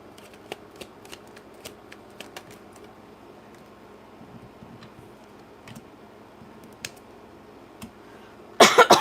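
Tarot cards shuffled by hand in a quiet room, faint irregular soft flicks and taps spread through, ending in a louder burst of riffling.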